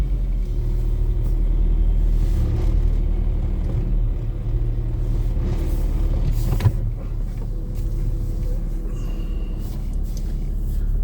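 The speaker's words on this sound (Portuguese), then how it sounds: "Vou tirar o carro aqui." A car pulled out at a country smallholding: steady low engine rumble running throughout, close and continuous, with a brief sharp knock midway and no talk.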